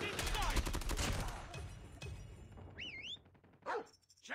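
Automated sentry gun in Call of Duty Mobile firing a rapid, loud burst of shots, followed by scattered gunfire and sharp electronic tones, with a game voice calling out over the action.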